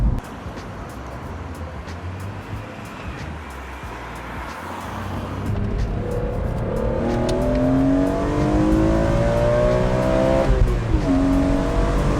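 A BMW E46 M3 Convertible engine drones steadily while driving, then climbs in pitch as it revs and accelerates, loud and close throughout, with no talking.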